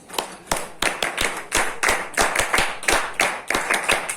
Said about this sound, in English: Claps for all students.